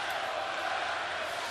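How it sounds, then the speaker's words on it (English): A packed, raucous sellout crowd fills a basketball arena at an NBA playoff game between the Cleveland Cavaliers and Toronto Raptors, giving a steady, distant roar of many voices throughout. "A raucous sellout crowd once again on hand here"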